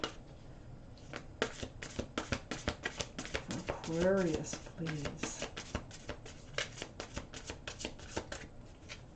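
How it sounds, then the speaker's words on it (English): Angel cards being shuffled by hand in quick bursts of crisp riffling flutters, close and clear, with someone speaking briefly midway. "One more little shuffle here for Aquarius's angel card."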